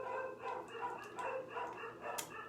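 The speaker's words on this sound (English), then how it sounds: "Sorry about the dogs." Dogs bark repeatedly in the background, a faint, irregular series of barks and yips from some distance away.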